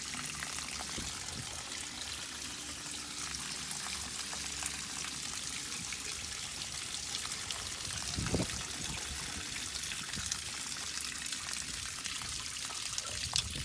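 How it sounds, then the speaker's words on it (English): Water from a hose flushing through a vehicle chassis up under the fuel tank, a steady hissing splash and trickle that runs continuously and fairly loudly, with no voices. "You want to make sure that you keep the water flowing in there until it's coming out clear."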